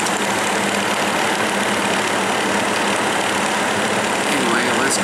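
A Breezeway MBF-907 9-inch box fan runs steadily and close by, its constant motor hum and broad airflow rush holding even throughout with no break.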